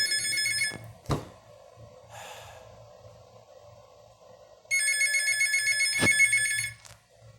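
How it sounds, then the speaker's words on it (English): A telephone rings in two loud bursts of bright, rapid electronic trilling, separated by a quieter gap, over a low pulsing background hum with a few sharp clicks. "It irritates the crap out of me every time that phone rings."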